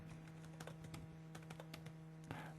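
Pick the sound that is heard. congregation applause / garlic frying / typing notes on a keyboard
typing notes on a keyboard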